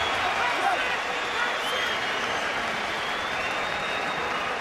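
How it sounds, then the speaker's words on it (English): A boxing crowd in Nottingham roars at a title fight, a dense, steady wash of cheering and applause filling the arena throughout. "The Nottingham crowd roar on the hero"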